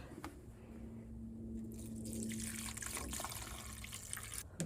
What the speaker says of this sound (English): And now I'm just going to pour water over it.